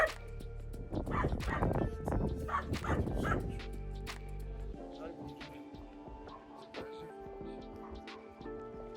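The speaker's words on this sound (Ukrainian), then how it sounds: "Друже, чого ти гавкаєш?" A dog barks in a quick burst of yips and woofs in the Hutsul mountain village of Kryvopillia, then falls quiet as faint background sounds carry on.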